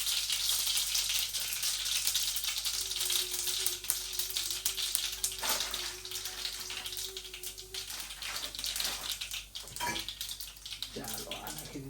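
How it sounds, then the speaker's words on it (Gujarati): Vegetables tempered in hot oil on a gas stove turned to low, a continuous soft crackling sizzle with watery hiss, fairly quiet, with a brief tonal hum and a few clatters partway through. "ગેસ મેં કરી નાખ્યો છે ધીમો અને શાક વઘારવાની શરૂઆત કરી દીધી છે આપણે"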